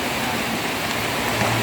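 Steady rain falls outside a house in the province, a dense, even wash of rainfall close by with no talking over its brief span.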